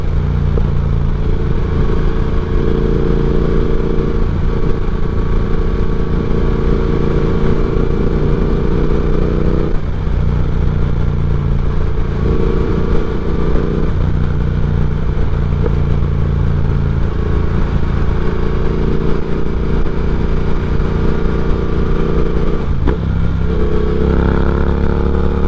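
A Triumph Speed Twin motorcycle on a spring ride, its engine a steady loud drone with shifting mid-pitched harmonics as speed changes and brief dips at gear shifts, continuous for the whole stretch with no talking.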